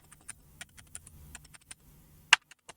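Keys on an Amiga A600 computer keyboard are tapped in an irregular sequence of light, close clicks, with one sharper, louder keystroke near the end.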